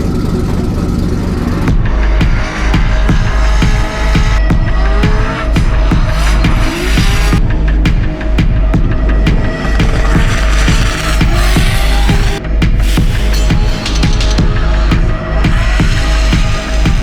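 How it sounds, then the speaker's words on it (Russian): Drift cars at ADM Raceway during a qualifying run of the 2023 Russian Drift Series Grand Prix, engines roaring at full throttle with shifting revs and long, continuous tire squeal, very loud and close with no voices. "На ADM Raceway продолжается первая попытка первой группы участников квалификации 4-го этапа Гран-при Российской дрифт-серии 2023 года Анатолий Щербак."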